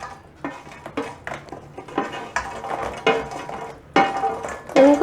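Fried kalkal (kulkul) pieces tumbled into sugar syrup in a metal pan, with a string of clattering knocks and scrapes of a utensil against the pan, fairly close, no voices.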